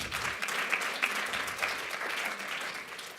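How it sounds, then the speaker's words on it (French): Audience applauding an award winner at a medical editorial prize ceremony, steady broadband clapping from a room full of people lasting throughout, fairly even in loudness with no voices over it. "On vous applaudit."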